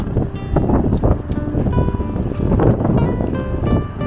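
Strong wind by the water buffets the microphone in a steady, loud roar with gusty rumbles throughout, and no voices are heard.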